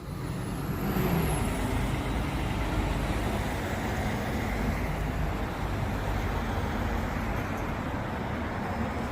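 A city bus on Albany Highway in East Vic Park runs past, giving a loud, steady engine and road roar close by, with a brief high air-brake hiss near the start.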